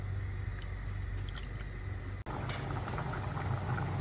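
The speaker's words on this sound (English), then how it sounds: "all the rice and let him to boil with high flame" Rice boiling in water on a high flame for an Arabian chicken mandi, a steady bubbling and hissing simmer close by, continuous throughout with a brief dropout midway.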